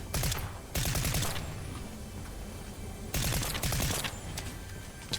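Automatic gunfire in Fortnite, rapid bursts of shots in two loud clusters with a quieter gap between, close and sharp.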